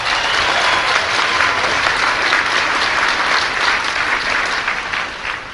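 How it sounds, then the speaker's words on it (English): Sustained, loud audience applause fills a formal correspondents' dinner hall after a political speech line, a dense steady clatter of many hands that holds throughout and tapers slightly near the end. "was that Roger Ailes applauding out there?"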